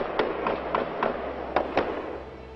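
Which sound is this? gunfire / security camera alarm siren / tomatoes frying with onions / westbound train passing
gunfire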